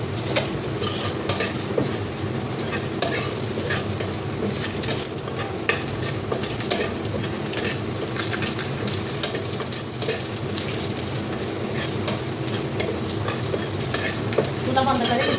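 Dried chillies frying in a pan for a lentil and mashed-vegetable meal, a dense, continuous close sizzle with light stirring scrapes, loud and steady throughout.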